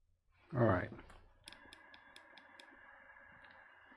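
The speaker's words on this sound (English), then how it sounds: "See, when it's trying to focus, I don't know if you can hear that clicking." An Olympus E-M10 camera's lens hunts for focus, a string of faint, evenly spaced tiny clicks over a low electronic whine, after a brief burst of a voice.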